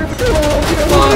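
Rapid automatic gunfire rattles loudly in the tactical shooter game Squad, a short close burst of overlapping shots.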